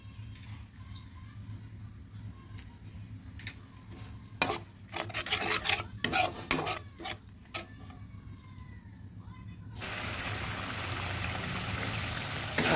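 Katla fish curry with yogurt being stirred in a pan over raised heat, with intermittent scraping and wet rasping strokes in the middle, then a steady loud sizzling hiss toward the end, close by and without talking.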